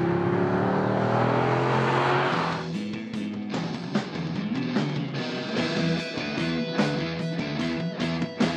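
A Chevrolet SS V8 sedan roars as it accelerates, loud and close, its engine note climbing before a run of quick shifts and throttle blips with rising and falling revs.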